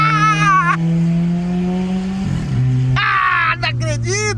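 Volkswagen Golf 1.6 MSI with its catalytic converter replaced by an exhaust diffuser, idling in a low steady drone with a brief throttle blip, while excited voices talk and shout over it in bursts.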